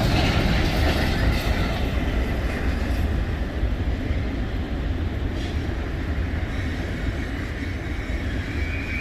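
Intermodal freight train rolling through the Gallitzin Tunnels in Gallitzin, Pennsylvania, a steady loud rumble of wheels and railcars with faint clickety-clack, continuous throughout with no voices.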